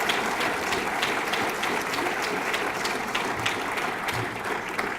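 Sustained audience applause fills a school academic excellence banquet, a dense steady wash of many hands clapping at even loudness throughout with no talking.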